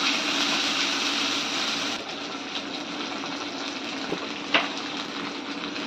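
Masala for mackerel gravy is mixed and fried in a pan, making a steady close hiss with a spoon clink near the end.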